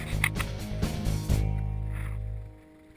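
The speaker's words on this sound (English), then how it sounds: "here we have Emma at the controls of our dinghy we call McKenna" A small inflatable dinghy motors toward a dinghy dock in the Galapagos Islands, its outboard engine droning steadily up close before easing off and fading near the end.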